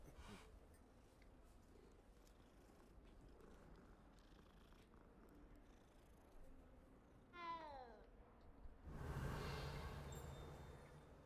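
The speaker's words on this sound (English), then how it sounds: "Look at the cat." Cat in the game Hogwarts Legacy lets out a short rising meow, then a louder burst of purring and mewling near the end, over quiet game ambience without talk.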